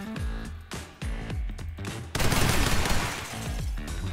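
Rapid bursts of gunfire crack through in the video game The Hong Kong Massacre, first a string of separate loud shots, then a dense sustained volley of automatic fire, with game-style echoes and no talking.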